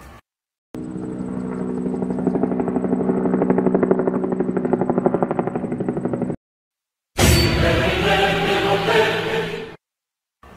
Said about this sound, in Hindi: हेलीकॉप्टर आ चुका है।